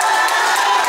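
A crowd at a youth football trophy ceremony for the regional championship cheers and applauds loudly and steadily, with whoops and children's shouts carrying through the dense clapping.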